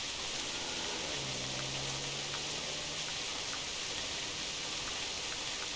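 Rain falls in theHunter Classic as a steady, dense wash of hiss, even and unbroken, with faint tapping drops scattered through it.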